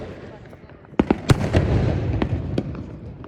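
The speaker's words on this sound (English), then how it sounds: "we have permission from the store owners nearby that we can light fireworks here" Fireworks set off with store owners' permission go off in several sharp, loud cracks and pops, one after another and close by, over a background of crowd murmur.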